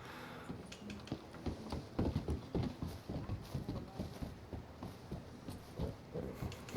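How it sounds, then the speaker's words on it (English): Horse hooves clip-clopping at a steady walking rhythm in Red Dead Redemption 2, the footfalls close and moderately loud over a low ambient game backdrop. "This poor horse."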